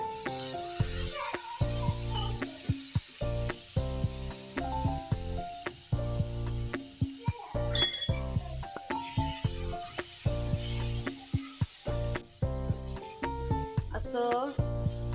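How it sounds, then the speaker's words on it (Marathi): Sprouted moth beans hit hot spiced oil in a pan and set off a crackling sizzle, with stirring and a voice talking over the frying throughout. "आता ह्यात आपण टाकू आपले फोड आले मटकी"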